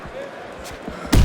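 A punch lands with a heavy slam near the end of a short stretch of game crowd noise in the boxing video game Fight Night Champion, a single loud hit on the opponent's head.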